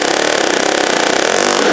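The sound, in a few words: air hammer removing closing wheel parts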